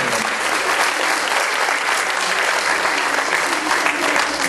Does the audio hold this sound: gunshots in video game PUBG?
no